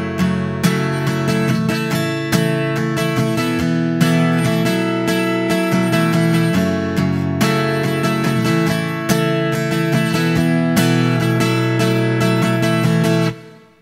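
An acoustic guitar strums chords in a steady strumming pattern, with accented downstrokes hit harder than others, then stops abruptly.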